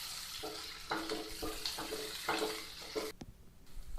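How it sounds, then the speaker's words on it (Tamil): Onions for poha upma sautéing in a pan, a soft steady sizzle with rhythmic scraping stirs every half second, fairly quiet and with no voices. "நல்லா ஆனியன் வதங்கட்டும்."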